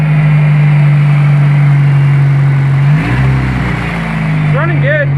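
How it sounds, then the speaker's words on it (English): Pickup truck engine with straight pipe exhaust, loud and close: a steady deep rumbling idle, then a brief rev near the middle before settling back, with a voice briefly audible over it. "Let's try and rev it up a little bit."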